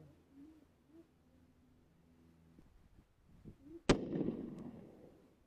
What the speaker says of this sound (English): that's 800 yards that we are shooting at right now